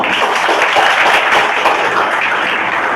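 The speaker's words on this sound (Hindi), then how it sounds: "एक बार ताली लगाकर इनका स्वागत।" An audience at a gathering for a BSSC exam topper claps in welcome, a loud, dense and continuous wash of applause throughout.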